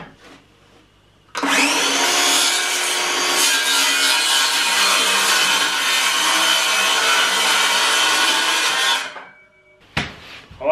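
A power saw cuts a piece in half while building a DIY chicken waterer, a loud steady whine of about eight seconds that starts abruptly and stops, then a brief clatter; no talking.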